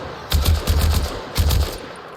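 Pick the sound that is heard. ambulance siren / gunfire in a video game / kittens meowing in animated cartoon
gunfire in a video game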